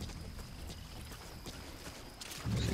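Horse hooves clip-clop steadily in Metal Gear Solid V: The Phantom Pain, a soft repeating beat of footfalls with a louder, fuller thump near the end.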